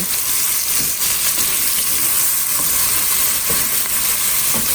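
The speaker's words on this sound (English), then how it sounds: "The onions have cooked for about a minute or 2." Finely minced shallot and garlic with salt and pepper sauté in a pan for a red wine reduction, giving a loud, continuous close sizzle with occasional light crackles and no speech.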